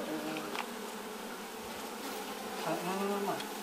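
A swarm of honeybees hums steadily and closely around a bag holding the captured colony, a dense continuous buzz with no talk.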